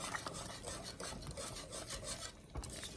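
Salt being stirred into a pot of cheeseburger soup, a steady scraping, rubbing mix of spoon against pot that runs continuously and close.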